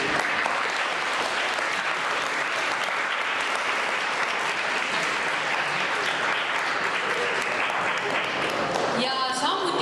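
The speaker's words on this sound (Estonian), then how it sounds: "teeme nendele suure aplausi." Audience at a school student-council presidential debate applauding the candidates, a dense, steady wash of clapping filling the whole stretch at full loudness, with a few voices mixed in near the end.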